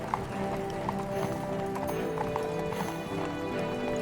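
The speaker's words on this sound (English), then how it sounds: "As the carriage carried the prince and princess away" Horse-drawn carriage carrying a prince and princess, hooves clip-clopping steadily at a moderate distance, with a horse whinnying and faint background rumble.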